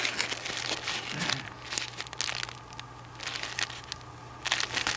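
Paper envelopes being handled during a haul of diamond painting tools and accessories, with continuous close crinkling, rustling and crumpling that swells and fades over a few seconds, no talking.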